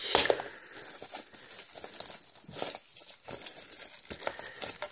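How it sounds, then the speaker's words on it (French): Plastic wrapping being pulled and struggled with on a Pokémon Neo Genesis trading card deck, close-up crinkling and crackling in irregular bursts, loud and alone. "Ah, j'ai du mal à retirer le plastique."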